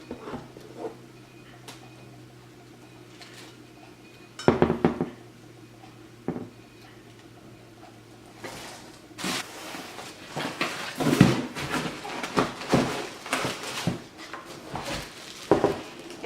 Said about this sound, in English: And this pan came like this, wrapped. I'll take the wrapping off.